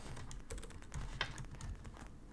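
Code being typed on a computer keyboard, a quick, close run of soft key clicks and taps with no talk over it.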